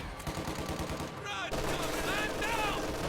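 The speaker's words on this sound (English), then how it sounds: "look at this reversed facing MG from Alastor" Machine gun fire in a strategy video game: faint rapid bursts of gunfire rattle in the background, mixed with game sound effects, one sudden louder burst midway, no speech.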